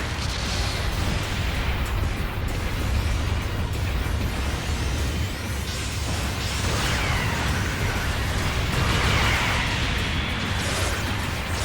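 A mobile suit explodes after being destroyed in Gundam Battle Operation 2, a dense roaring blast wash with layered booms and crackling debris that lasts steadily throughout, loud and continuous with no talk.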